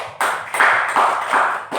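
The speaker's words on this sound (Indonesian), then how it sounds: "Tepuk tangan buat Tuhan." A church congregation claps hands together during a worship service, a few distinct bursts of clapping near and fairly loud, with no talking.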